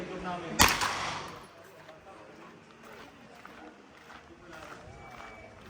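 A single sharp, loud gunshot from a Taurus CT9G2 9mm pistol-caliber carbine cracks close by, then people talk over quieter background noise.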